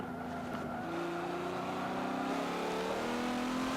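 A Porsche race car engine drones and climbs in pitch through the gears in the racing game Forza 7, a continuous loud revving whine with no voices.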